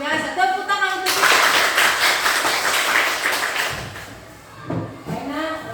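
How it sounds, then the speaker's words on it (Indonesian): A classroom of students claps together in a burst of applause lasting several seconds, following a teacher's spoken greeting and with voices returning afterward. "Tepuk tangan untuk kita."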